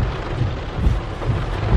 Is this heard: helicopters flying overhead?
no